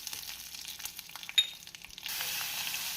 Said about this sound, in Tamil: புளி போட்டு நாம் இதை ஒரு அரை நிமிடம் நன்றாக வதக்கி விட வேண்டும்.